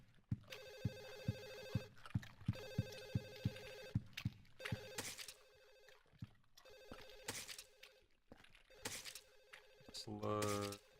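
A telephone rings repeatedly in Silent Hill 4: The Room on PS2, evenly spaced bell bursts over heavy rhythmic footsteps, with metallic clanks between rings and a rising sweep of noise at the end.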